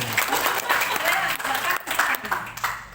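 An audience claps at a teachers' day talk show event in Papua, with brisk, uneven clapping running throughout, voices mixed in under it.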